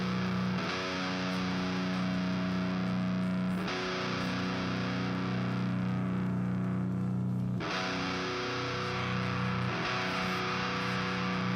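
A heavy, doomy, sludgy distorted guitar plays through a Benson Chimera amp sim, sustaining thick chords that change about every four seconds, steady and loud with no talking.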